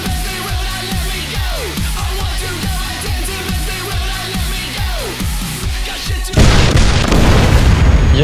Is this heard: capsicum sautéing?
no